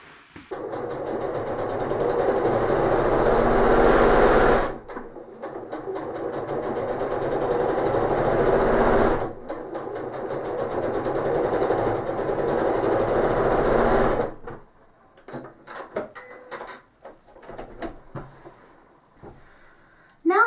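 Sewing machine fitted with a walking foot stitching lines across a quilt, loud close steady whirring runs with brief pauses, then quieter handling clicks near the end.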